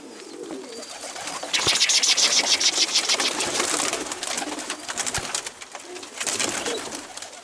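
Pigeons in a loft, including a runaway black-headed bird that has flown in, coo steadily up close, with bursts of flapping wings and scuffling louder in the middle and again near the end.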